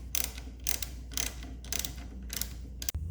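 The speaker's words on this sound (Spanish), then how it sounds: "Ponemos nuevamente ambos tornillos y apretamos con fuerza considerable" Screws being tightened back into a motorcycle brake caliper over the disc, giving about six short bursts of ratcheting clicks at a steady rhythm, close and fairly quiet, with no talking.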